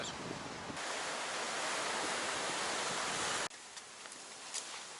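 Steady roar of ocean surf washing in on an empty beach on Hainan Island, broad and constant, with a sudden drop to softer waves near the end; no voices.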